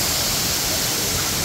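Steady, dense roar of a twin waterfall in Chitlang, Chainpur, Sankhuwasabha, rushing water and strong spray-driven wind filling the whole span without a break and with no voices.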